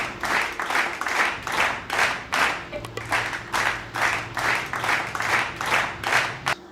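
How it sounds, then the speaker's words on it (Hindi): Bursts of group clapping come in a steady rhythmic pulse, roughly two claps per second, close and fairly loud, with a faint low hum beneath partway through. "आइए तालियां बजाते हैं।"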